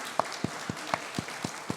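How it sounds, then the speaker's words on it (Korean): A church congregation at a Sunday service claps to welcome a city councillor, about seven separate claps spaced evenly across the moment, moderately loud and sparse rather than a full ovation. "우리 박수로 환영하겠습니다"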